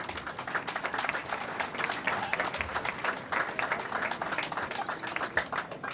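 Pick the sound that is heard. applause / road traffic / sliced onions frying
applause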